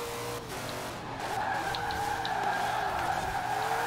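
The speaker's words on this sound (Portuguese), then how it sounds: "Esse carro é muito bom de drift." A Ford GT40 drifts in Forza Horizon 4, its tires squealing in a sustained, wavering screech over the low engine drone, loud and continuous throughout.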